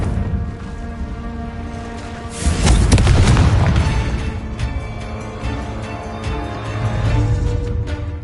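A Confringo spell explosion in Hogwarts Legacy, one heavy booming blast that swells up and then rumbles away under ongoing game sounds, with a softer surge near the end.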